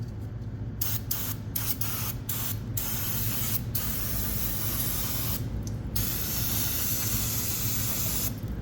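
Aerosol brake cleaner sprays onto a car's disc brake in a steady, loud hiss lasting most of the time, broken by several short pauses between bursts near the start and one longer gap midway.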